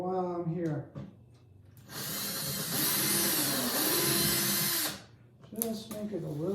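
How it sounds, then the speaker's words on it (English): Power drill boring into a guitar body to clean up a hole for a pickup install, a loud whirring burst lasting about three seconds, with brief tool noises and spoken remarks before and after. "Okay, that's the drilling part."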